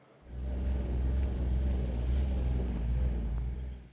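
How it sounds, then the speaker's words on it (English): ATV engine running at Robbers Cave State Park on rough, rocky trails, a steady loud rumbling drone that holds for several seconds, close by and alone. "it's time to go riding ATVs at Robbers Cave State Park"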